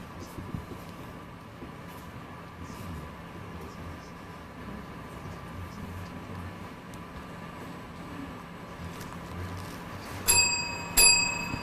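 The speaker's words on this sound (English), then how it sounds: "so the bell is gone" A quiz contest buzzer bell rings out near the end of a Bible quiz competition, two bright metallic rings over a steady room hum and background murmur.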